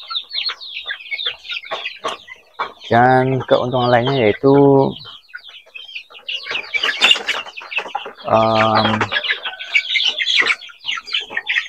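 Chickens in a semi-close house coop cluck and chatter nearby, with a couple of louder drawn-out calls standing out, while someone talks over the birds.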